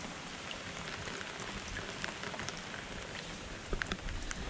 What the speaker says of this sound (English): It's fucking raining cats and dogs